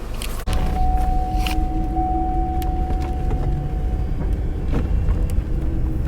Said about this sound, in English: We're going to take it out for a ride now.